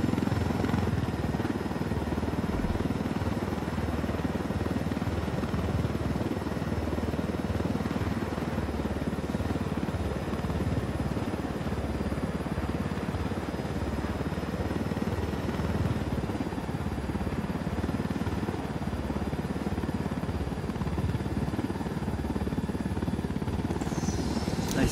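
A helicopter in the video game Ghost Recon Wildlands roars at close range, a steady, loud rotor and engine drone that holds unchanged with no voices over it.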